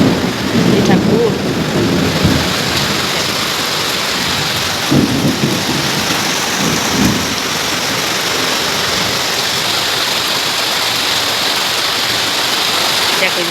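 Torrential rain pours steadily during a heavy thunderstorm, with a few deep thunder rumbles early on, then a constant dense hiss of rainfall continuing to the end.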